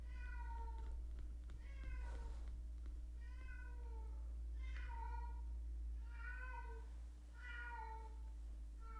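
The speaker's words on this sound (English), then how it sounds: "Oh my god, he's meowing a lot." A pet cat meows repeatedly indoors, about six drawn-out, rising-and-falling calls spaced a second or so apart, fairly close, over a steady low hum with no talk.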